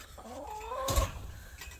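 Chickens in a backyard flock cluck softly and fairly close, with one rising, drawn-out cluck and a short thump partway through, with no talking.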